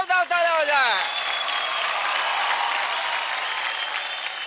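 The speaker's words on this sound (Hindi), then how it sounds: "जोरदार तालियां हो जाए" An audience claps loudly and steadily for several seconds, with a brief tonal musical flourish at the start.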